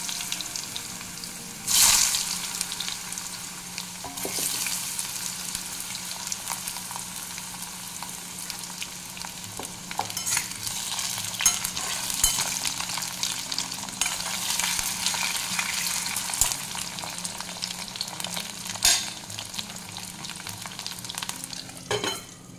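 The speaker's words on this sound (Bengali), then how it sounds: "এবার এই তেলের মধ্যে দিয়ে দেবো একটু কালো জিরা, আলুগুলো ভেজে নেব প্রথমে ভালো করে।" Potatoes fry in hot oil with black cumin while a utensil scrapes and stirs them in the pan, giving a continuous close sizzle with scattered clinks and a few sharper knocks, no voices.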